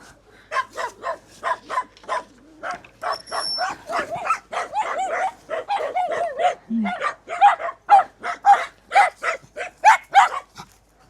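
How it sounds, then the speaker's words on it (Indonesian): A dog barks repeatedly in a fast, steady series of close, loud yaps and woofs outside a village house in snowy winter in rural Moldova, with a brief whimper partway through. "Bawel, kamu ngegonggong terus."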